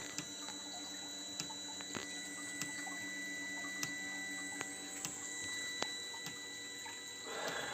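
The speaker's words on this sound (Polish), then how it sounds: "Pompa już pompuje paliwo." Quiet, regular ticking pulses from the small fuel pump of a Webasto Thermo Top heater, spaced roughly evenly, over a steady mechanical hum.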